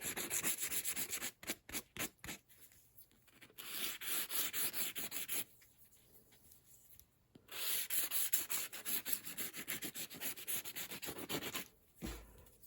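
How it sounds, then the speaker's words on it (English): Abrasive sanding strokes deburr the edge of a sidelock shotgun stock, coming in close rhythmic bursts with two brief pauses, fairly loud and with no talk. "one of the first things you need to do is just deburr this edge"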